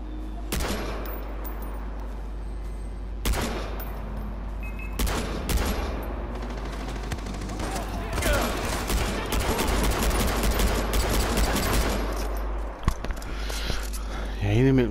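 Gunfire from the video game Far Cry 4 sounds in sharp, loud bursts and rapid automatic volleys across the stretch, with muffled game ambience between shots.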